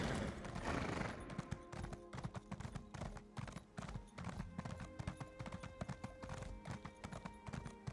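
Horse hooves clip-clop steadily in Elder Scrolls Online, a brisk rhythmic trot of sharp close impacts running throughout over ambient game background, with no talking.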